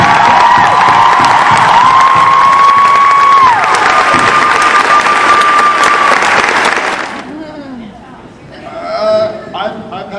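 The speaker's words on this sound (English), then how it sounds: "Round of applause, guys." Loud convention crowd applauding and cheering at a fan panel, a dense roar of clapping with whistles and shouts lasting several seconds before dying away, then scattered voices and a brief swell of noise.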